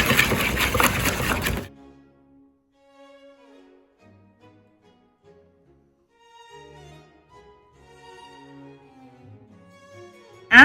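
A grain mill grinds whole wheat into flour for homemade bread, a loud, dense mechanical whir that runs for a second or two and then stops abruptly, leaving near silence with faint kitchen clatter.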